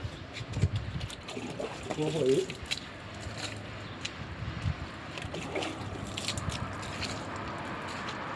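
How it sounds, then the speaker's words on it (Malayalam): Water splashes and pours over a BMW car being hand-washed in Saudi Arabia, a rough, gushing wash with heavier bursts early on, while voices murmur in the background. "ടോപ്പ് വെച്ച് വെള്ളം ഒഴിക്കാൻ പോകണം."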